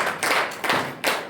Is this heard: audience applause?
yes